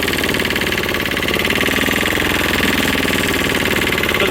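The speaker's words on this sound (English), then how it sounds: "When I switch it on, the engine bobs down for some reason." Ammann AR65 vibrating roller engine running with its vibration engaged, a loud, close, steady rapid knocking chug that stays constant throughout without any talk.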